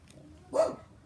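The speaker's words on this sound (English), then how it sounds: "That's my dog." A dog barks once near the microphone, a short, fairly loud bark in an otherwise quiet indoor setting during a children's story reading.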